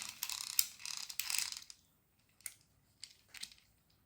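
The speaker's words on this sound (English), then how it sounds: "We can't go the other way until we release the ratchet, and now the wheels are engaged because that other idler gear has dropped into place" Plastic ratchet and idler gear mechanism of a Hot Wheels Speed Winders toy car, heard up close as bursts of clicking and rattling, followed by a few short, quieter clicks separated by pauses.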